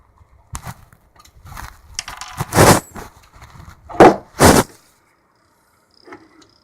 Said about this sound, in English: Don't worry about that rattling sound. That's just my GPU sound, graphics card, whatever you want to call it.